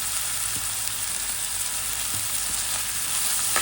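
Loud steady sizzle of prawn curry ingredients frying in a pan, with onions, green chillies and salt, dense and close with faint stirring, no speech.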